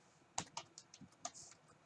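Typing on a computer keyboard, with about eight light, irregular keystrokes heard close and quiet, with no speech.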